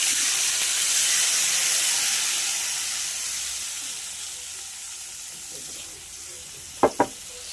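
Ground spice paste fries in hot oil with asafoetida, a steady steamy hiss that slowly fades, followed near the end by two quick sharp knocks.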